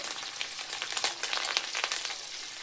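Chicken pieces, green chillies and curry leaves fry in hot oil, giving a loud, dense, continuous sizzle with crackling pops spattering throughout.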